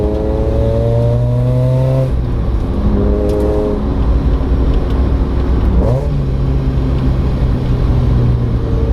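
Rotrex-supercharged 1.8-liter Mazda Miata with a lightweight 10-pound flywheel howls loudly up through the gears on track, its engine pitch climbing, dropping on each shift, then climbing again.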